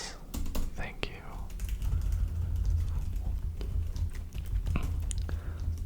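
Soft keys tap in uneven bursts on a computer keyboard under hushed, whispery talk in a quiet spooky ASMR clinic setting, steady close clicking throughout.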